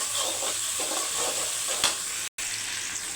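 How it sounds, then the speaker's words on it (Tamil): Tomato frying in a pan crackles and sizzles steadily up close, with soft stirring scrapes and a brief drop to silence partway through. "அந்த தக்காளி போட்டு நல்லா வறுத்துக்கலாம்."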